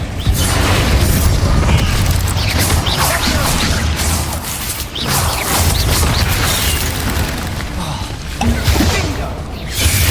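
Spell explosions from Confringo and Bombarda in Hogwarts Legacy boom and burst repeatedly in a loud, dense game battle, with whooshes and crackling impacts piling on each other almost without pause.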